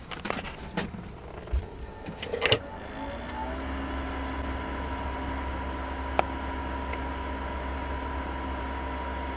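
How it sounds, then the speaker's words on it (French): A Truma gas water heater in a camper van tries to start, with several sharp ignition clicks and ticks before a steady fan whir and hum kicks in and runs on evenly, interrupted only by one more brief tick. "On va entendre le chauffe-eau tenter de se mettre en marche."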